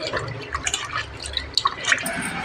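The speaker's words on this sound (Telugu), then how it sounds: "ఈ కందిపప్పును పచ్చిమిర్చిని వాష్ చేసుకుందాం" Toor dal and green chillies are rinsed in water, making brief, quiet, close sloshing and light drips with a faint voice in the background.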